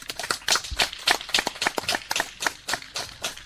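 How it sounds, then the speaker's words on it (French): A small group gives scattered, close handclaps of applause for Monsieur Moussa Biodjara at a coastal environment event, with an uneven, steady patter of individual claps and no speech. "Monsieur Moussa Biodjara mérite des applaudissements."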